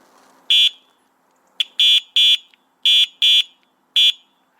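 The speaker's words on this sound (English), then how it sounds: "The horn, there's a horn here, a multi." An A2B Metro electric bike's multi-sound horn gives six loud, high-pitched electronic beeps, first one alone, then pairs and a final single, with no talk over them.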